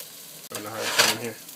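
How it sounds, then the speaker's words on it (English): A crêpe sizzles in a frying pan just after being flipped, a soft steady hiss that starts suddenly and stays close and moderate, with a quiet voice talking over it. "Then you want to flip that, get a nice even cook on the other side."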